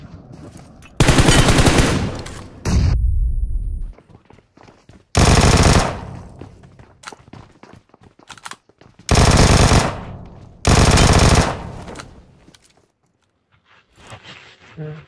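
Loud automatic gunfire in the mobile battle royale game PUBG Mobile (BGMI) comes in several sustained bursts of a second or more, separated by quieter gaps with faint game sounds, while players talk excitedly over voice chat.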